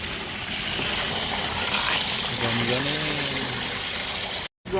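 Water gushes steadily from a tap as a large freshly caught mud crab is rinsed under it, a continuous near splashing flow with voices talking faintly over it before a brief cutoff near the end.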